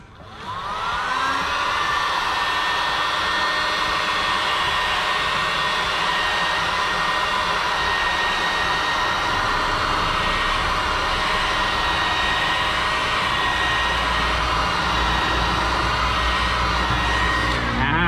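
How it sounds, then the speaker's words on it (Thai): A heat gun blows hot air onto a sticker to soften it, a loud, steady roaring hiss that starts quickly and holds unbroken from start to finish, close to the listener and with no speech over it. "เราจะ ลนให้มันเเกิดอุณหภูมินะครับทำให้สติกเกอร์มันอ่อนนุ่ม"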